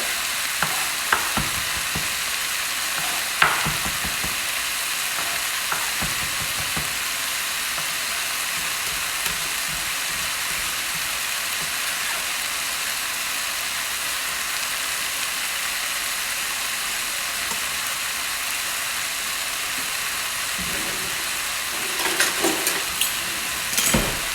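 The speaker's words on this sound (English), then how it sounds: "you fry the onion and the chicken together until it starts to seal" Chicken and onion sizzle steadily in a hot pan, a constant hiss with occasional stirring clatters and scrapes, no voices.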